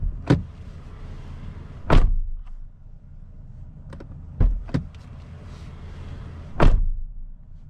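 Car doors on a Toyota Alphard 40-series are shut several times, each giving a solid, heavy thunk over a steady low background hum, with quieter clicks of latches between the closures.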